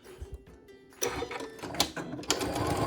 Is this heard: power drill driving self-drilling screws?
no